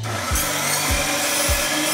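A 12-inch compound miter saw cuts through a stone-look counter panel, a loud, dense grinding roar with three low thuds spaced about half a second apart as the blade works through the material.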